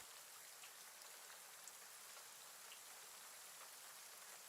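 Steady, even rainfall patters on surfaces as a dense, continuous hiss with faint scattered drops, unchanging for the whole stretch.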